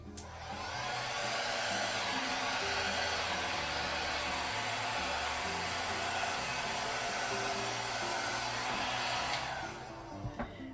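Hair dryer blowing wet paint off the edge of a canvas during a fluid art Dutch-style pour, with a steady, loud whooshing drone running nearly unbroken for about ten seconds before it cuts off.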